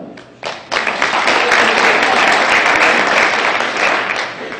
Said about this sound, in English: And a round of applause for the pledges that led us in the Pledge of Allegiance